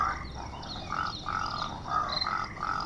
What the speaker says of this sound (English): This is a wild boar boss noise.